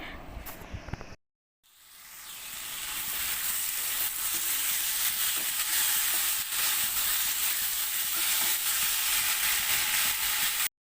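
Tomatoes and pre-fried potatoes sizzle loudly in spice paste in a pan, a dense steady frying hiss that runs continuously after a brief opening burst and short pause.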